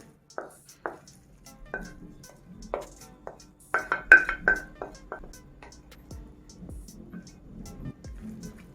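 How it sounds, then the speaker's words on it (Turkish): Grated apples go into a pan on the stove, with a scattered run of light taps and clinks of a utensil against the pan and brief quiet gaps between. "Tavayı ocağa alıp rendelediğim elmaları tavaya ilave ediyorum"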